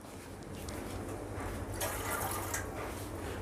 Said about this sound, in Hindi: फिर उसके बाद में इसमें थोड़ा सा पानी डाल लेता हूँ